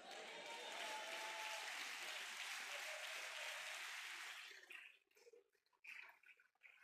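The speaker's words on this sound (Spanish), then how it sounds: "Fuerte el aplauso." Loud, sustained applause from a church congregation during a sermon, steady for about four seconds before breaking off into scattered claps and movement.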